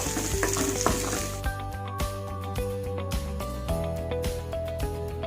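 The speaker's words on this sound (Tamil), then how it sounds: "எண்ணெயும் மசாலாவும் நல்லா ஒன்று சேர்கிற மாதிரி பிரட்டிக்கணும்." Quail eggs frying in oil with masala in a kadai, a steady close sizzle broken by soft scraping stirs under faint background music, with no one talking.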